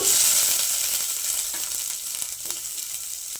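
Onions and curry leaves drop into a pan of hot oil with mustard seeds. A bright sizzle is loudest at first, then settles into a steady hiss with a few faint stirring clicks.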